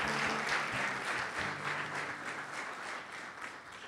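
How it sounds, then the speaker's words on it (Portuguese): A church congregation applauds together, with dense, steady clapping that fades gradually over several seconds. "Aplauda ao Senhor, querido, em nome de Jesus."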